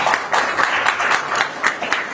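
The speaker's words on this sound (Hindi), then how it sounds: "इस विद्यालय के लिए ताली बजाइए" A school audience of students claps for their school in a fast, dense burst of applause that stays steady and close throughout.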